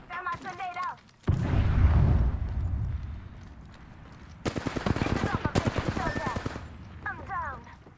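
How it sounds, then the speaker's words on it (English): A grenade blast and bursts of automatic gunfire in the battle-royale video game Apex Legends: a sudden loud boom that rumbles and fades, then rapid rattling shots, with a player talking before and after. "Throw my grenade out!"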